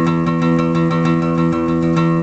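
An acoustic guitar rings with open, unmuted strings during an alternate-picking chromatic exercise, steady repeated notes sustaining into one another, close and bright with no talking.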